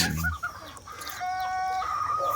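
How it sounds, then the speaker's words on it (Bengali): Hill jungle fowl hens and roosters at a rural poultry market, clucking and calling loudly at close range, with a sustained crowing-like call in the middle. "ওই যে মুরগি মোরগের সাথে দেখাই কাছের থেকে দেখাই"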